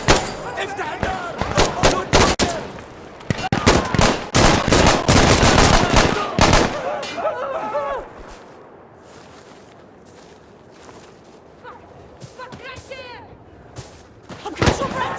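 Intense gunfire in the shooter game Insurgency Sandstorm: rapid, loud bursts and single shots crowd the first half, then fade to a quieter stretch with distant shots, with voices shouting in between.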